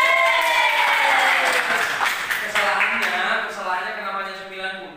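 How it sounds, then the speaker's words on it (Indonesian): Classroom audience applause during an Indonesian lesson, steady clapping blended with overlapping voices and chatter throughout, tapering slightly toward the end. "Tepuk tangan."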